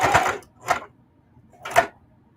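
A home sewing machine stitches through several thick layers of a vintage apron in three short, loud, close bursts separated by pauses.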